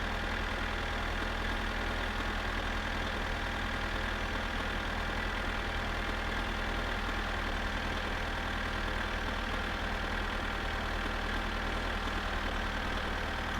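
Tractor engine idling in the game My Summer Car, a steady, droning low rumble with a constant whining hum, unchanging and continuous with no voices.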